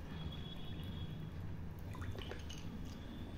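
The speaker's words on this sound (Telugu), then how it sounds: "ప్లాస్టిక్ గ్లాస్లో పోస్తాం." Alkaline water with a pH of 8.5 pours into a plastic glass, a brief, faint trickle and splash buried in a steady broadband hiss.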